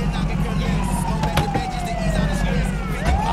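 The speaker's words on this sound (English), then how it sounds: "Oh, ambulance pulling up on the scene." An ambulance siren wails in GTA 5, its rising and falling tone sweeping through the scene over a heavy low engine rumble and background game noise, with someone talking over it.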